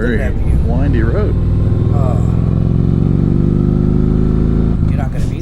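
A motorcycle cruising a winding road, engine humming loud and steady with rising pitch, while a rider talks over it at the start and end.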